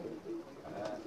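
A pigeon of the Superman breed from a Pakistani loft coos softly while held in the hand, a few low murmuring calls close by under faint background noise.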